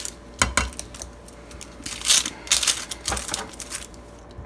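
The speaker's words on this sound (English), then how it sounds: "you're going to cut the top off" A knife cuts the top off a short, stout onion on a board. A series of sharp, close clicks and crunchy slicing bursts comes in irregular clusters, with quiet pauses between them.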